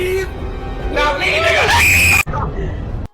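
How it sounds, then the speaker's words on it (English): A streamer screams into a microphone, a loud, strained, pitch-wavering yell that cuts off abruptly, with a brief shout after it. "all you get is just his voice or his scream. Like this one."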